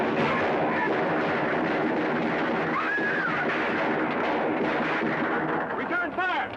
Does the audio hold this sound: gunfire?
yes